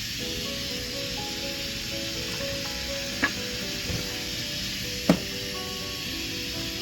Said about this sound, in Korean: 이 진간장을 조금 더 넣겠습니다.